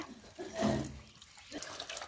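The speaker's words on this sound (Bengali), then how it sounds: "ভাতের চাল ধুয়ে নেওয়া হচ্ছে।" Rice grains being washed by hand in water in a village kitchen, a brief close slosh and splash of water, then quieter trickling.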